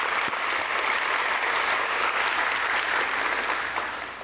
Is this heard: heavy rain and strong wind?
no